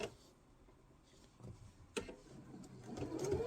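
A sewing machine stitches binding on a quilt corner in short, quiet bursts of rapid ticking, starting and stopping, with the run growing louder and steadier toward the end.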